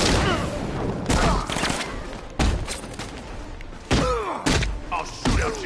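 Gunfire and heavy impacts in the Batman Arkham Knight video game, dense loud bursts of shots and thuds over a constant rumbling game soundtrack.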